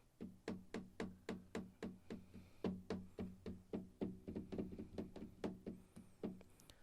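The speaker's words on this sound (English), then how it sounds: "This is a test for tapping on the table." Tapping on a table during a microphone test, a steady series of around twenty-five dull knocks at roughly even pace, quiet and close with a soft hollow tone, no voices.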